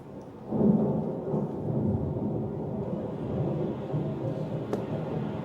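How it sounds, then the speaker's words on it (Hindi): Thunder rumbles low and deep before a storm, a long, sustained roll that swells after a quiet start and keeps grumbling, with a faint sharp crack near the end. "बादल गरज रहा है, तूफान आने वाला है।"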